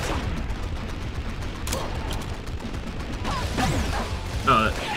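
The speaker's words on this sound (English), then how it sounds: "Gotta keep shooting him." Rapid gunfire and explosive blasts during a boss fight in the video game Bleed 2, dense and continuous with sharp crashes, while a person talks over it.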